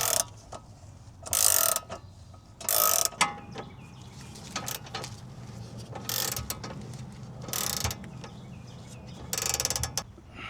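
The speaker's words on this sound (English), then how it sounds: "Or ratchet." A hand ratchet clicking in short bursts while upper control arms are installed on an Infiniti G35, the sharp metallic ticking runs coming in separated groups over a quiet garage background.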